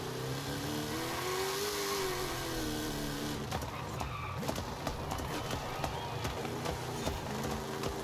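A car driving in the Forza Horizon 5 video game, with a steady engine drone whose pitch rises and falls as it revs, and a faint voice in the background.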